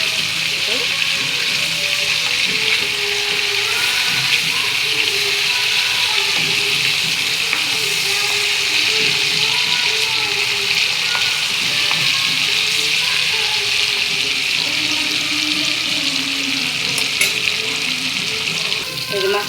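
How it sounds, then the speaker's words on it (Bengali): A large fish fries in hot oil with a loud, steady sizzle that runs unbroken throughout, close up, with occasional stirring clinks and some faint talk in the background. "এই যে মাছটি ভাজা হয়ে গেছে।"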